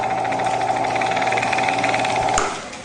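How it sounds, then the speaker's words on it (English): A drill press motor whirring with a steady high hum and rattling vibration, then winding down abruptly near the end. "now I'm just going to slide this over the drill press"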